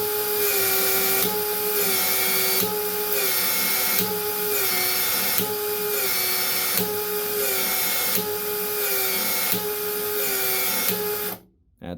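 Milwaukee M12 Fuel PEX expander tool working 3/4 inch pipe, a loud steady motor whine with regular pulsing cycles of the expansion head, running continuously for about eleven seconds before stopping abruptly.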